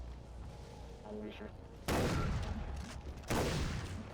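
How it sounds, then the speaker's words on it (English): Two heavy shotgun blasts from Far Cry 4 gameplay boom out about a second and a half apart over a steady background of game ambience, each with a lingering rumble. "look at the reload for the shotgun."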